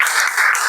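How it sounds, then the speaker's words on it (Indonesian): Group applause for a student group in a classroom setting, a brief burst of steady clapping from several people, fairly loud and continuous throughout. "Tepuk tangan dulu buat kelompok 2."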